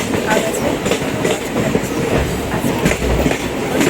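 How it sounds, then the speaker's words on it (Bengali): Train running along the track as heard from inside a passenger carriage, a steady loud rumble with rhythmic clickety-clack of the wheels over rail joints throughout, with no one talking. "ট্রেনে আছি।"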